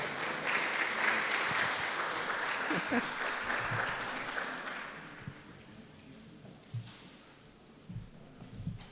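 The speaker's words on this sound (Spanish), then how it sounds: "recibámoslo con un fuerte aplauso" An audience claps to welcome a speaker, a dense wash of applause lasting about five seconds before thinning into scattered claps and small knocks and shuffles.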